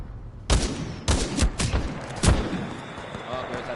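Weapon fire in the shooter Titanfall 2, a handful of loud, sharp shots in uneven succession, each one ringing out with a booming tail.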